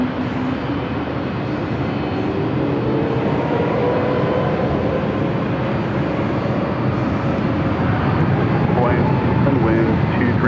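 An Airbus A321neo jet takes off from runway 24 left at LAX with a loud, sustained engine roar and rising whine that fills the whole span, while people talk over it.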